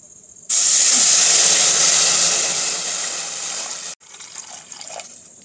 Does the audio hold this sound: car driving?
no